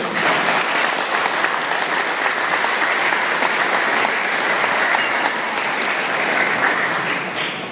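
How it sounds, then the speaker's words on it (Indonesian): A Catholic congregation at a Christmas Eve service breaks into loud, dense, continuous applause that fills the space evenly for several seconds before easing slightly at the end. "Mari kita beri tepuk tangan Bapak Ibu."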